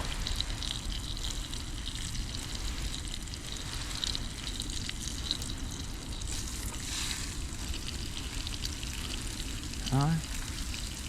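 Bacon-wrapped asparagus and tuna steaks sizzle in a single pot at a winter stealth campsite, a steady, close frying hiss that runs throughout, with a short spoken word near the end.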